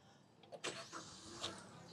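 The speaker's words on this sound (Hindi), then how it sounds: "ये ये है इसका कैबिन के अंदर जो स्टार्टिंग साउंड आता है" A Toyota Rumion CNG with a 1.5 litre engine starts up, heard from inside the cabin: a brief, muffled crank and catch followed by a soft, steady idle, fairly quiet overall.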